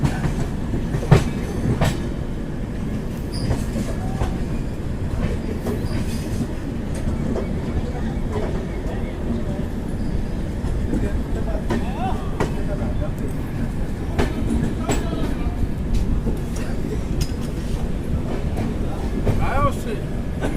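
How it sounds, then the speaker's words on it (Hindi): Purva Express, Howrah to New Delhi, standing at a railway platform, with a steady rumble of train and station noise, scattered clicks and clatter, continuous throughout. "सामने खड़ी है पूर्वा एक्सप्रेस हावड़ा न्यू दिल्ली"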